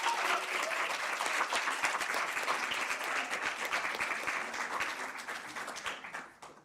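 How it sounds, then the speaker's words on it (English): A live audience at a women-in-literature-and-film event applauds steadily, a dense wash of clapping that holds strong for several seconds and then tapers off near the end. "please give yourselves a round of applause"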